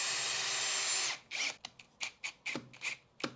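A power drill drives screws into concrete while an outdoor shower is mounted, one sustained high-pitched whir for about a second, then a string of short, sharp bursts and trigger blips at close range.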